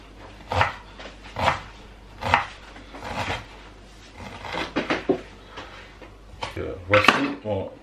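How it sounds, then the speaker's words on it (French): Fresh ginger is chopped with a knife on a board: irregular, close, solid knocks in short bursts, some in quick pairs, with no clear talking. "Je coupe mon gingembre."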